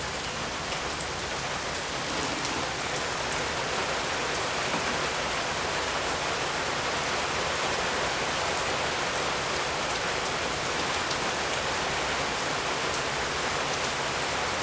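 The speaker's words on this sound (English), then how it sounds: "as you can hear, it's raining." Steady, dense rain falls outside by a covered porch, a constant even hiss of drops on surfaces with no pauses and no voices.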